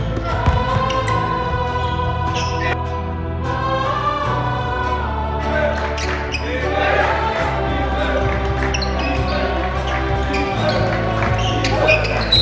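A basketball bounces in an empty gym, with a steady dribbling rhythm under loud music and a voice rapping over it throughout.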